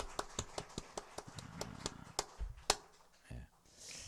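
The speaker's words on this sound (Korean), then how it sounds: "하나님께 영예 박수 시작." Church congregation at a Sunday worship service clapping in a steady, rhythmic series of sharp claps that loosen into scattered hits and fade, heard fairly faint in a reverberant room.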